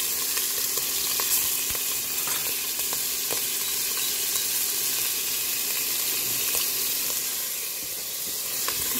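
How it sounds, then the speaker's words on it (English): Sausage and rib meat frying hard in a hot pan, a steady close crackling sizzle with faint scattered pops that holds evenly throughout, no voices. "this is sizzling away"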